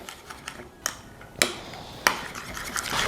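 Burger sauce with sriracha, relish and a pinch of salt being stirred in a bowl, with soft scraping and a few sharp clinks of the utensil against the side, close and fairly quiet.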